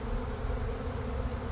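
Honeybees pouring out of a hive in a swarm make a dense, continuous buzzing drone, loud and steady throughout with no talk.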